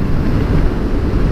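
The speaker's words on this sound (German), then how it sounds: "es ist ein bisschen laut, weil es ein bisschen windig ist" Wind roars against the microphone while riding a KTM 1290 Super Duke R motorcycle, a loud, steady low buffeting rush with no voices.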